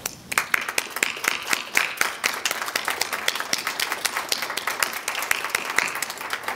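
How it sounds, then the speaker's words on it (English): Audience applause for college employees and students at a foundation kickoff luncheon, a steady burst of many hands clapping, fairly close and dense, continuing alone for several seconds. "let's give these folks a round of applause"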